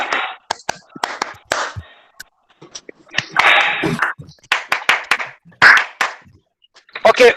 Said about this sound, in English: हमें एक क्लैप का पैटर्न दीजिए